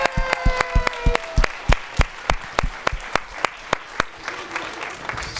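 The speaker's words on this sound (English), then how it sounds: "And can we give a round of applause to Dr." Audience applause at a school performing arts presentation of Peter and the Wolf, a mix of sharp individual claps close by over a softer crowd, tapering off toward the end.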